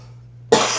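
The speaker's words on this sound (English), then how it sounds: "I gotta take a little cough." A single loud, close cough breaks a near-silent stretch with a low steady hum, and its rough exhale trails off over the next moment.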